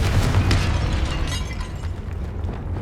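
Confringo blasting spell in Hogwarts Legacy, a loud booming burst with crackling debris at the start, then a rumbling tail that lingers steadily for a few seconds.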